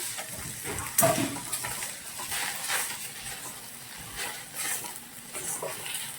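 Okra frying in a small measure of oil in a pan, with a steady soft sizzle and occasional scraping stirs of a utensil against the pan, one sharper clink near the start, no voices.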